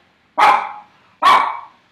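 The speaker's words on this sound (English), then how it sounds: "May you have no dogs barking in the background like I have at my house right now." Two loud, close dog barks, evenly spaced about a second apart, with silence in between.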